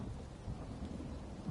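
Lightning strike in Elder Scrolls Online on PS4, a dense, continuous rumbling crackle like thunder and rain, loud and unbroken throughout.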